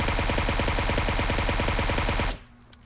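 A suppressed assault rifle in PUBG Mobile fires a rapid, steady full-auto burst of muffled shots for over two seconds, then stops abruptly into near quiet.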